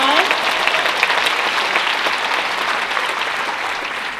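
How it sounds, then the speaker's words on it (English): Sustained, dense audience applause fills a hall at a parent education evening, given for the clinicians in the crowd; many hands clap steadily and evenly throughout. "Raise your hand if you are a clinician. Huge round of applause."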